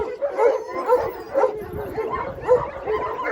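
Kangal shepherd dog, a two-year-old, barking and yipping in a repeated rhythm of short calls, fairly close, with some background voices mixed in.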